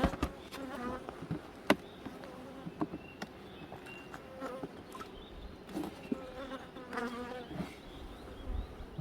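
Honeybees buzzing around a beehive at an outdoor apiary: a steady close insect drone with individual bees zipping past the listener, no talking.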